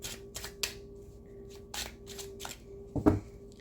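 Tarot cards being pulled and shuffled from a deck during a daily reading, a string of close, soft papery swishes and flicks in quick bursts, ending in a firmer slap of cards.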